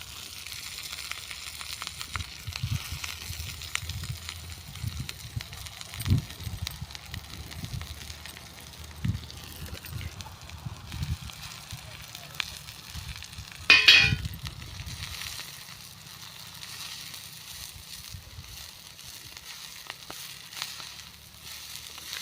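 Freshly picked vegetables frying in oil with chillies on a griddle in an open field, a quiet sizzle with scattered metallic clinks and scrapes of a spatula, and one sharper clang mid-way.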